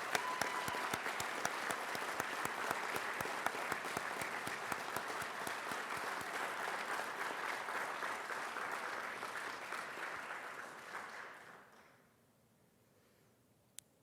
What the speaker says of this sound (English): let us have one more round of applause for our graduating seniors and future servicemen and women.